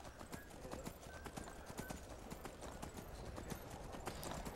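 Horse hooves clip-clop in a quick, steady galloping rhythm in Skyrim as the horse climbs a mountain route, close and clear against a constant game background.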